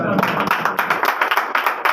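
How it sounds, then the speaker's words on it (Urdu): A church congregation at a Sunday meeting applauds loudly, a short burst of many hands clapping quickly together, close and continuous for under two seconds. "بنڈی کے لیے زوردار تالی"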